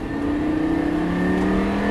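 A Lamborghini Gallardo LP560 pulls hard in second gear, its engine a loud, steady close-up roar that holds and builds without a break, with no voices over it.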